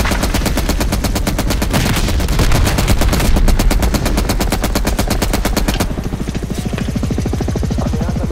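Sustained automatic gunfire in the Call of Duty Black Ops Cold War video game rattles loud and close in rapid bursts, easing into a steadier, lower mechanical chatter near the end.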